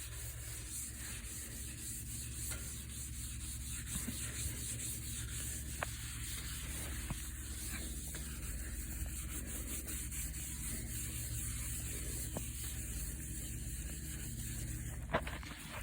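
Steady rubbing and scrubbing on an old rusty bumper being cleaned and polished, a continuous close abrasive scouring with faint scraping strokes and occasional small taps throughout.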